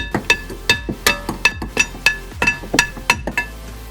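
Small hammer tapping on BMW 135i brake parts during a brake job: about a dozen sharp metallic taps in an uneven, quick rhythm, close and clear with no talk.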